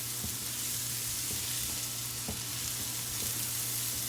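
Leeks sautéing in a pan for a brie and leek risotto, a steady close sizzle with a few soft stirring clicks, continuous and fairly quiet with no voices.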